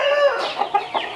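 A roughly seven-year-old rooster calls nearby, starting with a sustained tonal cry and then giving three short, loud clucks in quick succession, with no speech.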